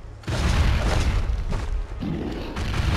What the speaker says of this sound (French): Il spam les grenades.